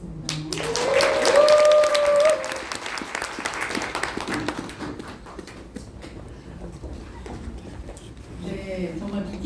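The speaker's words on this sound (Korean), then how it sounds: "다시 한번 큰 박수 보내드리도록" Audience applause at a Korean talk event, a burst of clapping swelling over the first couple of seconds then thinning out, with voices speaking underneath and after.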